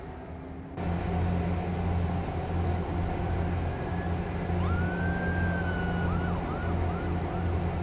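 Modded wailing emergency siren in the truck-driving game American Truck Simulator rises and falls in several sweeps over a steady low engine drone from a Kenworth W990 logging truck, loud and continuous, with no talking.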